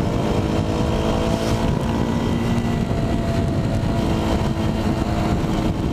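Motorcycle riding through a town in the Philippines, its engine a steady, close, continuous rumble mixed with wind and road noise, with no pauses throughout.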